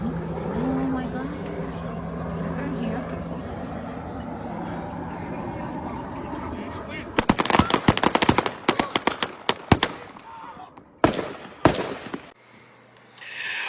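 Shotgun gunfire during a police shooting on a highway, arriving as a sudden volley of sharp, loud cracks in rapid succession after steady traffic rumble, then a few more isolated shots before fading.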